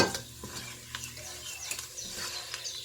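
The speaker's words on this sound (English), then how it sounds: "flour, and we're going to stir to combine these. This is a roux." A roux of flour stirred into fat in a pot on the stove, with steady scraping and soft sizzling under clinks of utensil on metal, close and fairly quiet.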